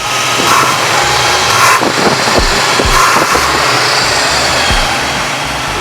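Loud, continuous car engine roar with a rising and falling rev after an oil leak repair, heavy and close, with broadband noise filling the whole stretch.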